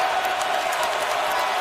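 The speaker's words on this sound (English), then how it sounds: "Now the crowd's back in the game." A steady, full crowd roar rises from fans in the stands at an NFL game, Denver Broncos at Atlanta Falcons, a continuous wash of cheering with faint talk underneath.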